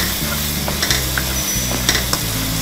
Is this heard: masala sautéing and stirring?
yes